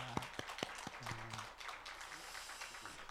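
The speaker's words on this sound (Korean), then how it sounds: "우리 박수로 한번 환영할까요?" A church congregation at Sunday worship claps to welcome a new member, a scattered round of applause with a few sharp claps standing out over faint room noise.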